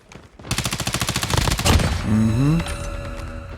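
A BAL-27 rifle fires a rapid automatic burst in a video game, about a dozen loud close shots in quick rhythm, followed by game sound effects as a voice speaks briefly.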